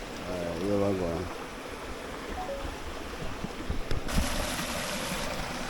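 Soft, continuous wash of a river stream flowing through the Jamaican hills, faint and steady, with a voice and some splashing or movement sounds over it.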